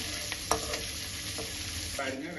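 Onions with curry leaves sautéing in a pan for Coimbatore santhagai: a steady close sizzle and frying hiss with scraping stirring strokes and a few light clinks, no talking.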